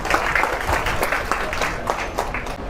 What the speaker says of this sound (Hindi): तालियां जबरदस्त होनी चाहिए।